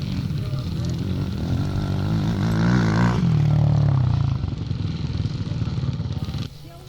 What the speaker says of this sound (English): A lovely sounding machine this when it blasts past you